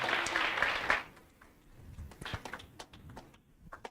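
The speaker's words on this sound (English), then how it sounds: "Let us clap hands once again for her." Audience at a university library book club launch claps hands, with a brief burst of loud applause at the start that quickly fades into scattered, thinning claps.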